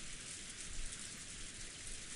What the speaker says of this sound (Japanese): 雨、とうとう降り出したのね。